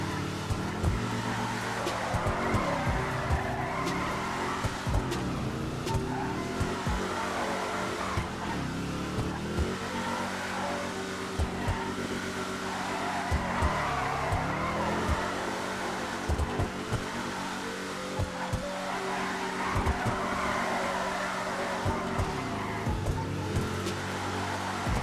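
A heavy Weeny Dynasty car in the GTA 5 video game drives and drifts, its engine revving up and dropping back through repeated gear changes, with occasional tire squeal, loud and continuous throughout.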